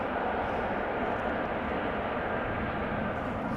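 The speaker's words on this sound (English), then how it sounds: "This was KLM flight 598. Returning to Amsterdam from Cape Town," A KLM airliner arriving from Cape Town produces a steady, broad jet roar that holds at an even level from start to finish, with no voices over it.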